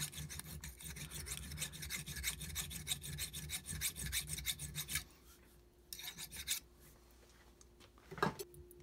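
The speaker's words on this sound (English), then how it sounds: "Now I'm going to just take my file" A hand file rasps metal flat in a mitre-cutter jig vise with rapid, even strokes for several seconds, then slower, quieter passes ending in a sharp clack, all close up.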